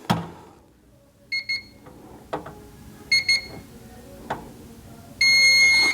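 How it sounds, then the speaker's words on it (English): Barska biometric pistol safe left open, chirping short electronic beeps in small clusters amid light handling clicks, ending in a longer sustained beep. "If you leave your safe open or unlocked, it'll start to beep"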